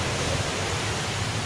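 A waterfall along a river hiking trail roars as a steady, broadband rush of falling water, loud and unbroken with no voices.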